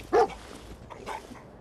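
A big dog in the video game Fallout 4 gives a single sharp, close bark, followed by softer faint yips.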